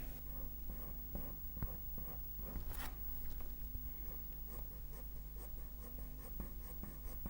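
Soft, close scratching of HB and 2H pencils laying short tapered shading strokes on paper, a quiet continuous rasp with occasional sharper strokes, heard alone.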